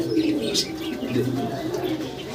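American Lakka pigeons give low, rolling coos close by, with faint chirps and soft rustling mixed in over a short stretch.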